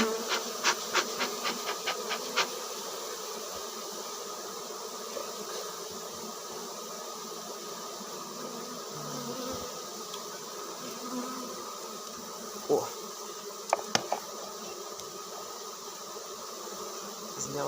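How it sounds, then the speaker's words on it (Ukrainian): Bees swarming and buzzing around a honey-laden beehive frame, a steady insect drone with individual bees zipping close by; a few sharp knocks and clicks near the end. "треба трошки подимати, бо бджолки агресивно зробилися трошки далі"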